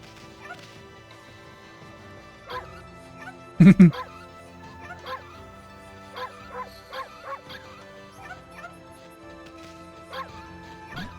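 In the video game Okami, a dog gives several short, yippy barks and whimpers, spaced out over game music, with one loud crash partway through.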